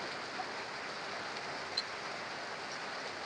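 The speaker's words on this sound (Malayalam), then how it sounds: "എന്താ ഭയങ്കര മഴ, ഒരു രക്ഷയില്ലാത്ത മഴ" Heavy rain pours in a dense, even wash of hiss, faint and steady for the whole stretch with a single brief tap near the middle.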